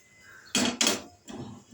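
A kadai and other kitchen utensils are handled in a home kitchen. Two sharp, close metallic clanks sound in quick succession, followed by a softer shuffle of metal, with no talking.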